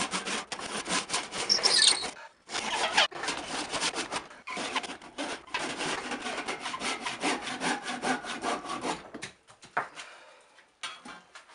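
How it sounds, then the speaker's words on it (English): A hand saw cuts through wood while shaping a ball head war club, steady back-and-forth rasping strokes close up, with brief pauses between bursts and a fading final stroke. "I'm going to use a saw to take it off"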